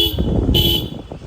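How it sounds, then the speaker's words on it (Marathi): A car horn sounds near a road on the way to Mumbai, one loud blast blended with engine noise, close and brief, with no talking. "हॉर्न वाजवल्यावर येते डुरू डुरू डुरु डुरू डुरू"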